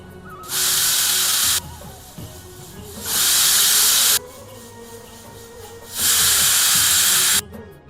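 Three loud bursts of hissing steam from a pressure cooker whistle while vegetable pulao cooks on a wood-fired stove, each lasting about a second and a half, separated by quieter background noise.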